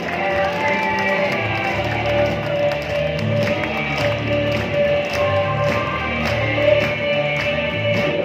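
A seminar crowd claps hard and steadily for several seconds, a dense continuous wash of many hands with faint crowd noise and talk underneath.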